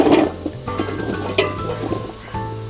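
Chunks of tapioca from a large five-kilo batch are tipped into a cooking pot, starting with a loud clattering tumble and followed by lighter clinks and scrapes against the pot.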